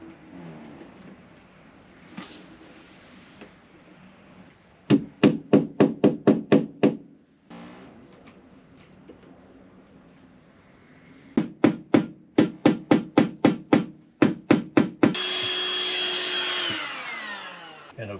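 Wooden bungs tapped into bung holes with a dab of varnish: two quick bursts of about seven sharp, evenly spaced hammer taps each, close and loud, separated by quieter background hum, then a sustained whirring machine noise at the end.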